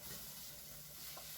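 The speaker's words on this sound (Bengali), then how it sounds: "এদিকে পেঁয়াজটাও কষিয়ে নিচ্ছি আর একদম অল্প তেলে আমি রান্না করি সবসময়" Onion sautéing in a small amount of oil, a soft, steady sizzle with light stirring scrapes, fairly faint and continuous with no voices.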